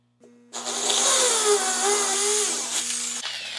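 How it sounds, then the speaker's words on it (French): A power drill fitted with an 11/64 bit bores body holes in the upper part of a screw assembly, giving a steady, close, high-pitched whine that starts abruptly, holds for about three seconds, then eases off. "Avec une mèche de 11/64, je vais venir faire mes perçages"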